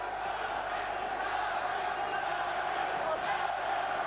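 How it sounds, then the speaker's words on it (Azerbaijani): Azerbaijani fans applauding and cheering at a table tennis match, a steady dense crowd roar with clapping that holds evenly throughout, with a commentator's voice underneath. "Yunan idmançısından daha çox Azərbaycan idmançısına alqış sədaları gəlir."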